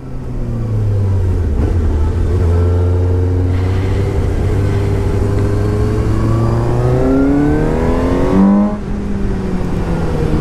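2017 Suzuki GSX-S750 motorcycle engine pulling hard through the gears on a test ride, a loud, close, steady rising whine with clear shift breaks and wind rush, revs climbing sharply before easing off near the end.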